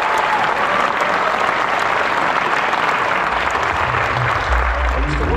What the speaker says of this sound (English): So please give a big round of applause to Mr.